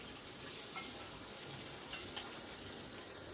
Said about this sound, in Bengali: এইবার দিয়ে দিলাম ম্যারিনেট করা কাতলা মাছের টুকরোগুলো। সামান্য একটু ফ্রাই করে নেব।